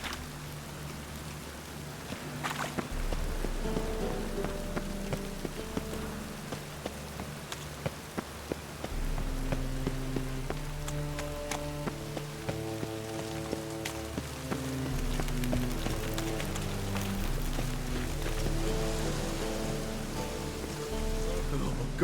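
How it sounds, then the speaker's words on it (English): Steady rain falls in The Witcher 3, a soft continuous hiss spread across the whole stretch, layered under a low droning game music score with no voices. "I like rain. Keeps the rogues indoors."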